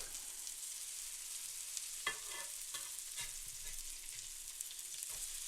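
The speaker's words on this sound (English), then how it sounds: "I think we're just about ready to give these burgers a flip." Burgers on a grill give off a faint, steady sizzle, with several soft scraping knocks as the patties are flipped.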